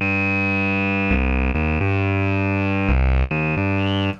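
A Sequential Take 5 synthesizer holds thick, sustained notes with a gritty, overdriven edge from its drive circuit, shifting pitch a few times in a steady, loud tone.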